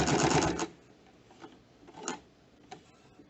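Close up, a sewing machine runs a short fast burst of stitching on a kurta sleeve placket, followed by a few isolated clicks and taps of the mechanism.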